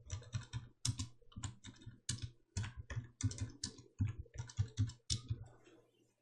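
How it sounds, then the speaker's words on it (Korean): Numbers are typed into spreadsheet cells on a computer keyboard, close and quiet, in quick bursts of key clicks separated by short pauses, with no one talking. "엔터 눌러가며 계속 타이핑 하십니다."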